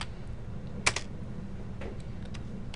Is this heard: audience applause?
no